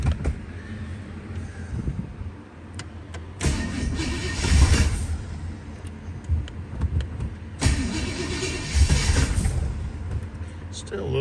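A 1935 Plymouth engine fitted with a new carburetor, turning over in two long cranking bursts that catch and rev roughly, with quieter idling in between and a voice talking over it.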